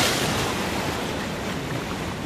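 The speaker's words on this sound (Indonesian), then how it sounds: "Nggak nyangka ombaknya sampai sini." Ocean waves surge and wash loudly near a sea cave, forming a dense, continuous roar of broadband surf noise with no voices.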